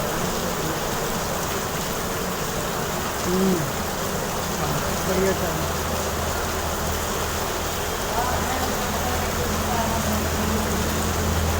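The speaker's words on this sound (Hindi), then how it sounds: "बाहर बारिश बहुत तेज़ गिर रही है" Heavy rain pours in a constant hiss, with someone briefly speaking over it and a few faint distant calls.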